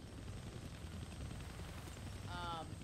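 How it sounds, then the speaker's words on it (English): A helicopter in the Deadpool video game drones as a low, continuous rotor rumble under game ambience, with a brief higher electronic chirp near the end. "I can't kill that chopper with my guns"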